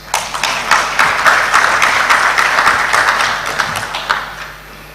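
A conference audience at a medical councils' annual scientific meeting applauds, a dense burst of many hands clapping that swells and then tapers over a few seconds.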